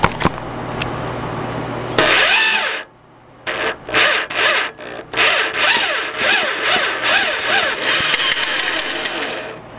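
An electric drill drives a homemade wire stripping machine, whirring loudly and close in a series of bursts that rise and fall in pitch, with a sharp start and a short stop partway through.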